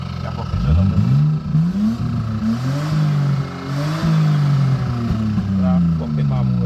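A Nissan Laurel C32 engine revs up and down repeatedly, rising and falling in pitch, with people talking over the rumble.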